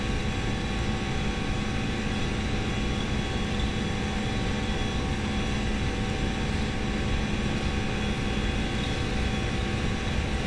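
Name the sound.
Aerosoft A320 engines on takeoff roll, flight simulator game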